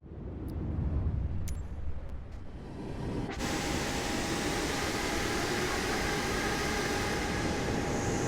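Boeing 737 MAX 8 taxiing in Microsoft Flight Simulator 2024: a steady broadband engine hiss and rumble with a faint whine, turning brighter and fuller after a few seconds and holding constant to the end.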